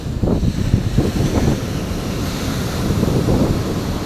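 Ocean waves crash and wash on Gumuk Kancil beach while wind buffets the microphone, producing a continuous loud roar with repeated surging swells.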